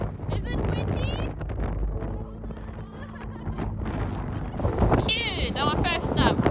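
Strong wind buffets a microphone outdoors on a rainy day, making continuous rumbling gusts, and voices talk over it throughout.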